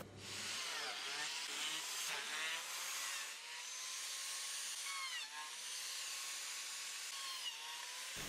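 A power biscuit joiner on a test run, cutting into wooden offcuts, a continuous high whirring whine with shifting pitch sweeps, fairly faint and steady for the whole stretch.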